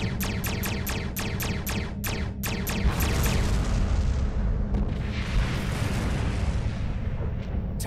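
Star Trek Discovery space combat game: a rapid burst of sharp weapon-fire pops, then a big rumbling explosion as an enemy ship is destroyed, its roar swelling and lingering loudly with no talk.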